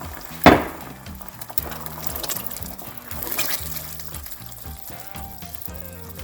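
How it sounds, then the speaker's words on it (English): Marinara sauce hitting a hot pan with garlic, a sharp initial burst followed by a steady, dense sizzle and spatter that continues loudly throughout. "So at this point, we're going to add a marinara sauce. And I'm going to quickly cover it"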